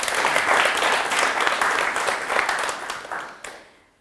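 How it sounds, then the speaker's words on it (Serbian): An audience breaks into sustained applause for the affirmative team at a debate on hate speech. The dense clapping is loud and steady before it thins and fades out near the end. "Hvala lijepo i aplauz za afirmacijsku ekipu."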